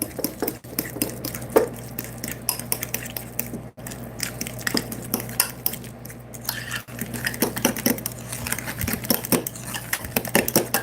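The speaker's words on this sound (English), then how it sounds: "If you just use your elbow grease and you press it enough and just keep mixing it." A spoon or fork mashes and stirs deviled egg filling in a bowl by hand, producing steady close scraping and squishing with occasional clinks against the dish and no talking.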